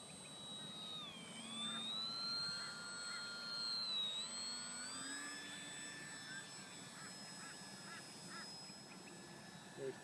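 A small RC foam model airplane in flight on a calm day, its faint, thin motor whine rising and falling in pitch as it passes overhead, under steady outdoor wind noise and occasional distant honking birds.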